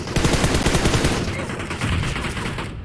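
Gunfire in the PUBG Mobile video game, a loud, dense burst of rapid automatic shots rattling continuously for nearly three seconds before trailing off.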